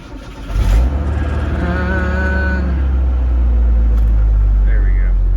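A 300,000-mile 1989 Ford Ranger engine cranks and fires after an oil change, then settles into a loud, steady running rumble nearby, with someone speaking briefly over it.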